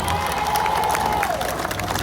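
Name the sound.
crowd applauding the staff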